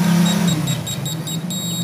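A simple battery-powered buzzer continuity tester, checking wiring in a dead Panasonic desk fan, gives short repeated high beeps in a steady rhythm, loud and close, over a low hum.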